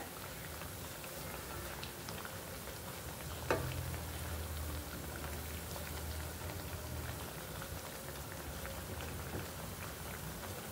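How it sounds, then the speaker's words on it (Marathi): Kothimbir vadi, coriander fritters, fry in hot oil with a steady, dense sizzle throughout, joined by one sharp crackling pop partway through. "छानपैकी अशा खरपूस परतून घेऊया आपण वड्या आता."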